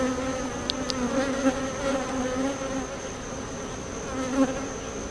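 Honeybees buzz steadily in an open, healthy hive during an early July inspection, a dense, continuous hum close by with a few brief sharper buzzes from individual bees passing near.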